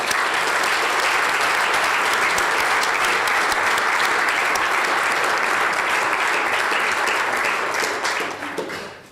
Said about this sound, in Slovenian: En velik aplavz za znanost.